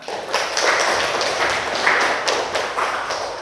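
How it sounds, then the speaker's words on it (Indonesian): Students in a classroom clap together in a short burst of brisk, fairly loud applause with a slightly rhythmic, uneven patter. "tepuk tangan."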